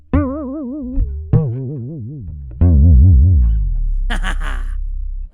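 A Mindbender bass guitar played as a few sustained notes that bend and warble in pitch with a chorus-like wobble, ending in a thick low drone, loud and close.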